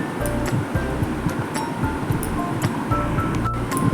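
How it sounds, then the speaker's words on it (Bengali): Pointed gourd pieces, halved with some skin left on, deep fry in oil with a dense, steady crackle and bubbling, plus occasional light clinks from the pan. "ভালো করে পটলটাকেও ডিপ ফ্রাই করে নেব"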